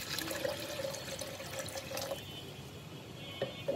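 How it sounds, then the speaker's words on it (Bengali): Water runs steadily into a blender jar for making chapati batter with rice, chickpea lentils and flour, a continuous close splashing fill that tapers off after a couple of seconds. "এখন আমি ব্লেন্ডারের মধ্যে পানি দিয়ে দিচ্ছি।"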